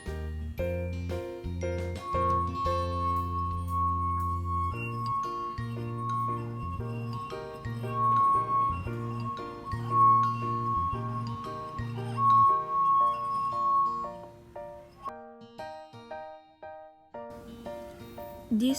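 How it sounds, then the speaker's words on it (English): Wet fingertip rubbed around the rim of a glass holding 100 ml of water, building into a sustained clear ringing tone that holds for several seconds before fading, accompanied by soft rubbing and clinking noises and a faint low hum. "Wet your finger and rub it around the rim of glass."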